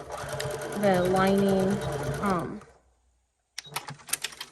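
A sewing machine stitches a bucket hat with blue top thread and a long 3.2 stitch length, running in a fast, steady whir. It stops briefly, then starts again in short bursts. A person talks over it.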